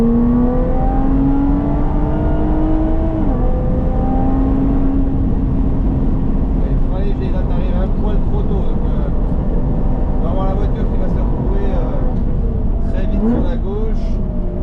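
A Lotus Evora 400 accelerates on a race track at Vaison, its engine note rising steadily and staying loud and close throughout, with people talking over it from inside the car.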